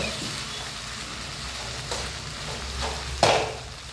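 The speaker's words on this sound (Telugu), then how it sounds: "పొడి సేమియా వేసి అది కొంచెం ఆయిల్ వేసుకోవాలి." Dry vermicelli (semiya) frying in a little oil for a sugarless sweet, a soft steady sizzle with a low hum beneath and a sharp clank of a utensil against the pan near the end.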